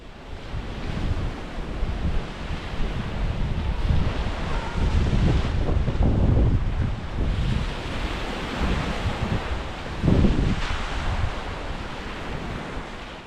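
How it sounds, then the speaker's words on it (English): Steady roar of ocean waves crashing and washing in on an unspoilt Grenada beach, continuous and fairly loud, with wind buffeting the microphone. "All you can hear is the crashing of the waves."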